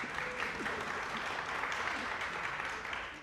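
An audience at a panel session of the Warrior Symposium 2026 with AWP breaks into steady applause. The dense clapping carries evenly for about three seconds, then tapers off at the end.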